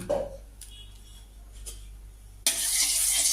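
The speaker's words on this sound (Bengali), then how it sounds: "আমি সামান্য তেল দিয়ে চিংড়ি মাছটা হালকা করে ভেজে উঠিয়ে নেব" Shrimp are dropped into a little hot oil in a wok. A quiet stretch with faint kitchen clinks gives way to a sudden, loud, sustained sizzle near the end.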